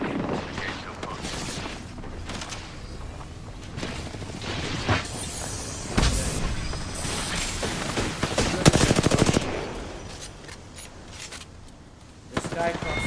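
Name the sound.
gunfire in a video game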